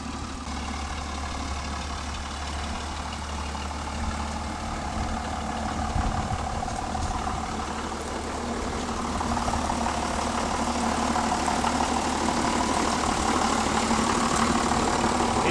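A tractor engine idles steadily in a wet, hilly farm setting, a continuous low rumble that stays even and grows slightly louder toward the end, with no voices over it.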